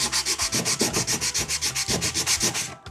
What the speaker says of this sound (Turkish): Şunları asıl zımparalamak istiyorum veya şu kenardaki boya lekeleri.